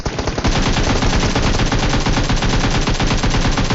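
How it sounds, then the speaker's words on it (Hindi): Automatic gunfire in the mobile game PUBG Mobile, coming from behind the player: a loud, close, rapid-fire burst of shots repeating steadily for several seconds with no talking. "जैसे मैं यहाँ पे आया तो पीछे से फायरिंग होती है।"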